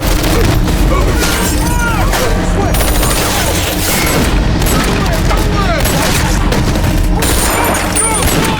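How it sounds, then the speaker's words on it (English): Dense, continuous gunfire with overlapping bangs and booms in a gunfight at a camp in Fear the Walking Dead, loud and chaotic throughout, with shouting voices mixed into the din. "The gunshot alerted the entire camp, leading to an intense gunfight between the two groups."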